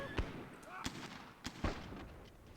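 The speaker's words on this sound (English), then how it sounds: "nice cannon shot there." Several booming cannon shots in the video game Myth II: Soulblighter ring out at irregular intervals, layered over other battle noise, with a voice speaking between them.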